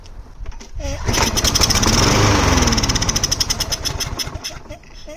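A lawn mower engine sprayed with brake cleaner as starter fluid catches and roars loudly up close for a few seconds. It then sputters and fades out as it dies, suggesting a carburetor in need of overhaul.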